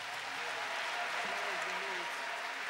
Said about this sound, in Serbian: Aplauz za Milicu.